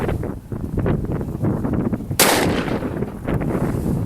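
A Taurus Judge revolver fires a shotshell at a target: one loud, sharp, broadband blast about halfway through, with outdoor background noise before and after and no talking.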